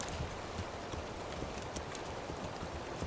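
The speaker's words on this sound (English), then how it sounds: "Our lovely horse has joined the settlement." Horse hooves clip-clop steadily in Manor Lords, a settlement-building game, as a new horse joins the village; a continuous, fairly close patter of hoofbeats runs through the whole stretch with no talking.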